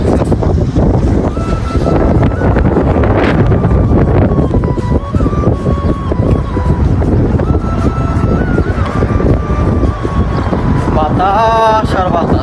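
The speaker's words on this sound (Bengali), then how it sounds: "বাতাস আর বাতাস।" Wind buffeting an outdoor microphone on the way to a shop, a loud continuous low rumble throughout, with faint background voices and traffic-like tones underneath.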